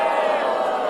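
A political rally crowd roars and cheers in response to a woman yelling, a dense, loud wall of massed voices throughout the brief moment.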